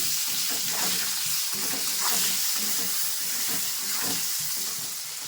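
Tomato going into a hot pan and frying, a steady loud sizzle with steamy hiss and occasional stirring scrapes, continuous and close with no talking.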